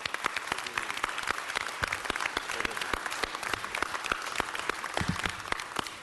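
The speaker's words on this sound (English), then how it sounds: "let's give him a round of applause" Attendees at a city council meeting give a steady round of applause, many hands clapping evenly throughout at moderate distance, with no talk over it.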